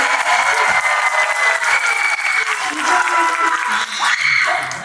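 A crowd at a Busan film festival screening with a post-screening talk, applauding and cheering: dense, loud, continuous clapping with shouts mixed in, steady throughout.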